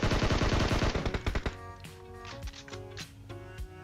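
Rapid automatic gunfire from the video game PUBG Mobile fires in a dense burst, then breaks into scattered single shots and short bursts amid the game's sounds.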